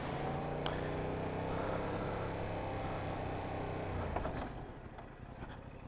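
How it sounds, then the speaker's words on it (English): A Yamaha R7 motorcycle braking with only the front brake from 20 mph: a steady engine drone that fades after about four seconds as it comes to a stop, with a faint clunk near the end. "All right, front brake only, 20 miles an hour,"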